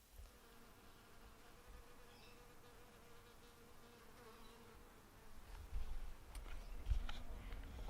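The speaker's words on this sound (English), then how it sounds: "this is the lavender next to my house, which the bees have always loved" Soft, continuous buzzing of several bees drifting around lavender beside a house outdoors, growing slightly louder toward the end with a few light knocks.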